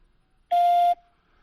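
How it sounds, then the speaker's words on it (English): A single clean electronic beep, steady in pitch and about half a second long, sounds alone against near silence. "Leave a message after the beep."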